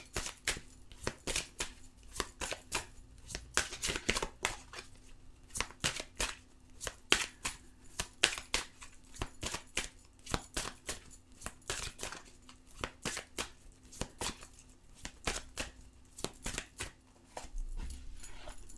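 Tarot cards being shuffled by hand, a close, steady run of quick riffling and soft slapping card noises that continues throughout with no talking.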